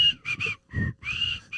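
A person whistles the theme tune of The Andy Griffith Show, a short run of clear, bright whistled phrases with brief breaths between them, close and fairly quiet.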